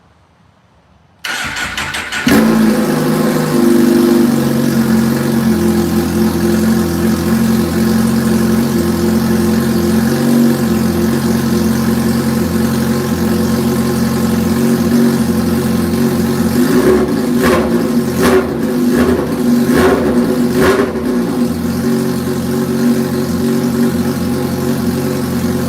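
A loud motorbike engine fires up after a brief quiet moment, then settles into a steady, rumbling idle close by, with a few quick throttle blips and revs toward the end.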